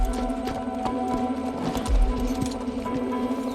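Horses settling into a new environment, hooves clip-clopping in a steady uneven rhythm over a constant low hum and background noise, with no talking.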